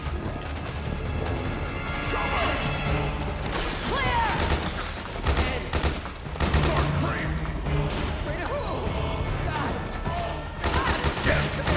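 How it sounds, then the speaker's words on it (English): Assault rifle gunfire in Metal Gear Solid 4 crackles in repeated bursts amid crashes, clatter and mechanical noise during a busy game battle, with voices talking over the shooting. "This is very good assault rifle."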